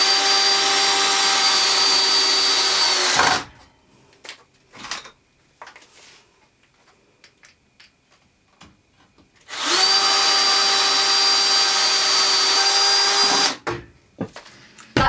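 Power drill driving decking screws into pallet wood for a garden planter trough, two long loud bursts of whirring separated by a quiet pause with faint clinks and handling noises.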